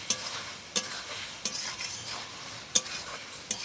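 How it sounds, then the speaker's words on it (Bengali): Whole wheat pasta tossed with pasta masala in a pan, a soft continuous stir and sizzle punctuated by several sharp spoon taps against the pan at irregular intervals. "এবার সব কিছুকে খুব ভালোভাবে মেশাবো।"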